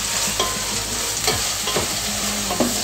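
Chopped onions frying in a pan for vegetable biryani, a steady loud sizzle with a few sharp scrapes and clicks of stirring, no talking.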